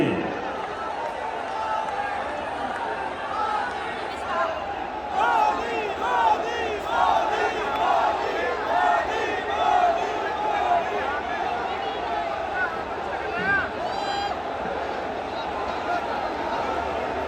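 A large crowd at the Jewar airport inauguration cheers and chants in unison. Rhythmic group shouts rise in repeated waves over a constant hubbub of many voices close by.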